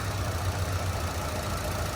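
A 1967 Lincoln Continental engine with a Holley Sniper EFI idling steadily up close, a low continuous rumble with a faint knocking texture throughout.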